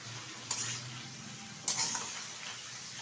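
Halved tomatoes drop into a spice masala frying in a pan for a Bengali tangra fish curry, giving two brief splashy hits over a faint, steady sizzle.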